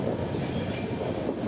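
A Mumbai local train runs at night, heard from inside as a steady, loud low rumble of wheels and carriage noise throughout the brief moment.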